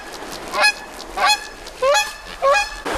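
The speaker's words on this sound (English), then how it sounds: "The portage trail is guarded by some irate geese" Irate geese honking along a portage trail in the northern Manitoba wild, four loud, near, harsh calls at steady intervals with a quieter rustling background between them.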